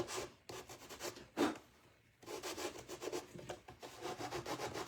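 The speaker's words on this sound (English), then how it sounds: "I'm just going to kind of sand those edges to just kind of round them off." Sanding the wooden edges of a gingerbread tray to round them off: close, rhythmic rasping strokes across the wood, with a short pause partway through and no talking.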